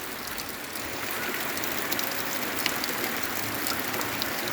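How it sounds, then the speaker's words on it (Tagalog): Steady rain falls on a farm in a dense, even hiss of drops, with scattered brighter patters on surfaces and no voices. "Sa wakas, umuulan na rin mga kaagri."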